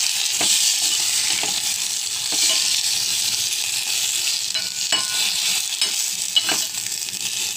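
Tomatoes and tamarind fry in a pan for charu or rasam, a continuous bright sizzle broken by a few sharp stirring clicks and scrapes, close and fairly loud with no voices.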